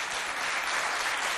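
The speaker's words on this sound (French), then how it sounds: "qu'on applaudit bien fort pour les accueillir" A school audience applauds to welcome guests at a televised evangelical school quiz contest in Mao, producing a dense, continuous wash of clapping that holds evenly loud throughout.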